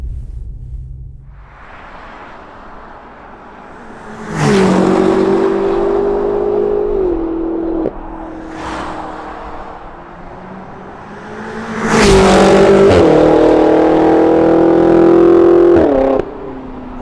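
A BMW F90 M5 V8 fitted with a Supersprint exhaust revs loudly, with two long, strong rev pulls and a shorter blip between them. Each burst rises sharply and settles back to a deep idle.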